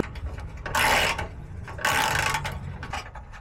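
A ratchet wrench removing 13 mm bolts on a Chevy Colorado during a tow hitch install, two rapid clicking bursts close to the microphone separated by a short pause, no talking.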